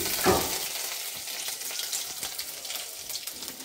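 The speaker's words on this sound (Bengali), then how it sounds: "রসুনটা হালকা ভাজা ভাজা হয়ে গেছে," Chopped garlic frying in hot oil in a kadai with dried chilli and five-spice, a brief dense sizzle with a small burst at the start, close and steady.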